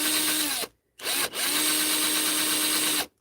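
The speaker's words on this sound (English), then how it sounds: "the drill sound is not pleasant" A power drill bores a hole through a Symbiote Spider-Man action figure in loud, close bursts: a long whine, a short pause, then a steady run that shifts in pitch as the motor loads and frees.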